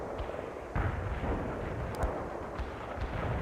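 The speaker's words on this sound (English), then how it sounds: "A cluster bomb didn't hit any hostiles." Cluster bomb air strike explosions in the World in Conflict strategy game crackle and thud as a rapid scatter of overlapping booms and pops, dense and rumbling, with no talking.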